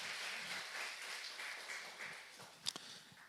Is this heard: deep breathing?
no